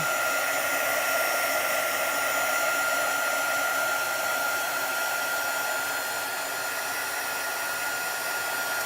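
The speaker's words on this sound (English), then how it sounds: "let's get our quick dry tool. Dry up our little eggs." A quick dry heat tool blows steadily on a chalk paste craft of little eggs, a continuous whooshing hiss like a hair dryer that holds at even loudness throughout with no voices.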